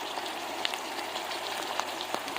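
Goodies cooking in a pan, a steady soft sizzle with faint crackling pops throughout, heard up close and alone.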